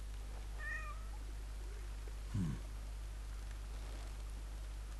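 A cat meows softly, giving one brief high call, followed by a low thud amid steady background hiss.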